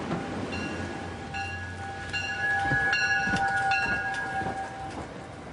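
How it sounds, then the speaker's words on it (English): Commuter train bound for Wall Street in the downtown financial district, rolling with steady rail clatter and rumble while a horn sounds in several repeated tonal blasts, fairly loud and close, no voices. "every morning hundreds of locals board these trains bound for Wall Street."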